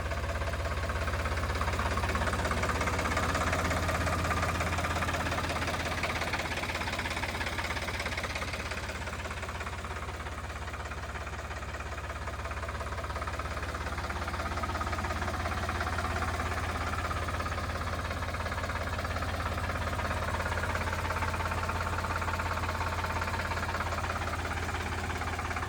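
A tractor engine idles steadily with a low, rumbling knock, continuous and fairly close, swelling slightly and easing back over time.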